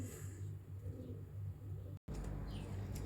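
Low, rolling coos from a group of pigeons carry on steadily nearby, briefly cut by a sharp dropout before the burbling resumes over a faint rumble.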